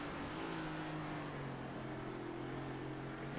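Big, heavy stock cars race around Sonoma Raceway in a racing video game, engines humming as a faint, steady drone with a slowly shifting pitch, quiet and somewhat distant.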